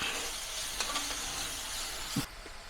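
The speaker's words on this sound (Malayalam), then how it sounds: "ചെറുതായി അരിഞ്ഞത് എന്നിവ ചേർത്ത് നമുക്ക് നല്ലപോലെ വഴറ്റാം അതോടൊപ്പം നമുക്ക് കുറച്ച് വേപ്പിലയും ചേർക്കാം" Chopped ingredients and curry leaves sautéing in a pan, a steady loud sizzle and hiss, with a few soft clicks of stirring and a brief scrape near the end.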